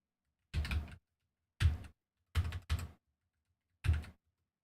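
Typing on a computer keyboard, heard close up in four short bursts of rapid key clatter with quiet gaps between them, against an otherwise silent background.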